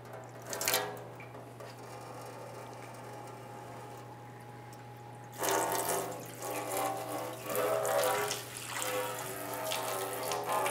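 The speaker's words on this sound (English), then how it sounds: "Now with the radiator pretty much drained out," Coolant draining from a 2008-2013 Nissan Rogue radiator into a drain pan, a faint trickle that swells into a steadier splashing stream partway through, over a low background hum.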